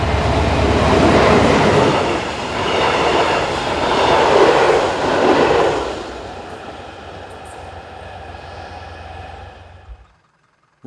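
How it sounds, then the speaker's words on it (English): A Class 612 diesel multiple unit on a regional service to Ulm rounds a curve north of Fischen, a loud close rumble and rail clatter that swells, then fades steadily into silence as it passes. "Rounding the curve just north of Fischen is another Class 612 on a service for Ulm."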